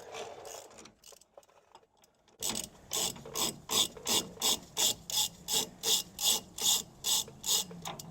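A ratchet turns the axle bearing nut tool on the rear axle of a 2005 Ford F250, making a steady run of sharp, evenly spaced clicks up close after a brief quiet start.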